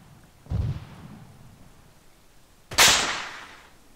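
Artillery fire striking a military base in the Arma 3 combat game: a dull low boom early on, then a sharper, louder blast around the three-second mark that trails off, with no talk over it.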